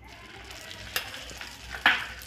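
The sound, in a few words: stirring melted sugar and ghee in a pan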